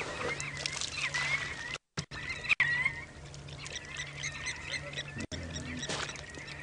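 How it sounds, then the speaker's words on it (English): Wild birds call and squawk on a safari drive at a game reserve, scattered chirps and one louder call over a low steady hum, with brief dropouts. "And you hear the birds starting up again."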